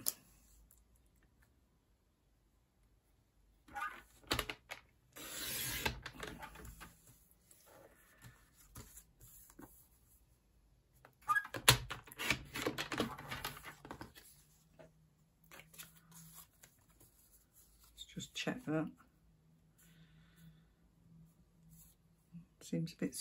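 A craft knife or trimmer scores and cuts small scraps of card, giving scattered scraping strokes and sharp clicks in irregular bursts separated by quiet gaps, with a person talking softly between the cuts.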